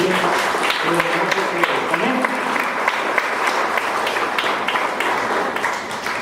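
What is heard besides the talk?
congregation applauding in church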